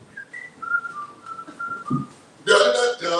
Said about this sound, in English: Just whistle in a tune.